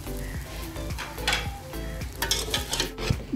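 Vegetable fried rice sizzles and fries in a pan while rice is stirred through it, a loud continuous crackle broken by repeated scraping strokes of the spatula, with no voices.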